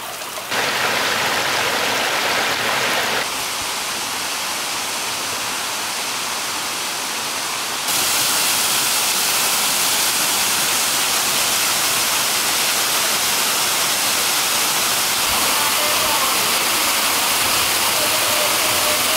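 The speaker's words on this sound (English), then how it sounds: "Oh, I hear some falls." An Australian waterfall roars in a constant, loud broadband rush, growing heavier partway through as it comes nearer, with no talk over it.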